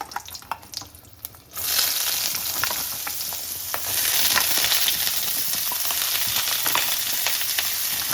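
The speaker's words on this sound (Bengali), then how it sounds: "এখন আমি এখানে সবজি দিয়ে দিচ্ছি।" Vegetables tossed into a hot pan hit the oil with a sudden loud surge of sizzling that holds steady and grows a little stronger, close and continuous with no voices.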